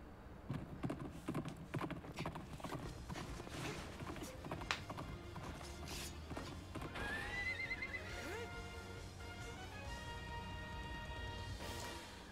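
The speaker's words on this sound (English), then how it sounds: "Mounting a horse while it's galloping." A horse whinnies with a shrill, sliding call over steady rhythmic galloping hoofbeats and layered background sound in the video game Hyrule Warriors, fairly loud throughout.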